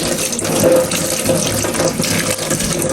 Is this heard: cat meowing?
no